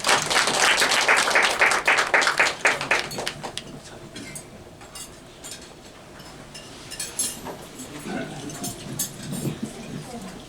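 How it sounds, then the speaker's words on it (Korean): Audience applause for a guest speaker at a Korean research institute presentation on world oil markets, loud dense clapping in the first few seconds that thins out into scattered claps and room noise. "박수로 맞아주시기 바랍니다"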